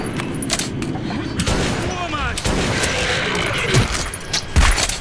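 Loud shotgun blasts in the Metro 2033 game, a double-barrel shotgun firing in heavy booms amid dense combat noise and clatter, with a voice talking over the action.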